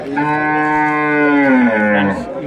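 A buffalo lows in one long, loud, close call at a busy cattle market in Kalghatgi, Karnataka, its deep harmonic moo slowly falling in pitch before trailing off.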